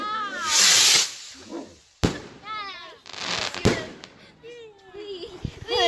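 Fireworks go off at a combined birthday party, with hissing launches, whistles and sharp close bangs over about six seconds while people talk and shout nearby.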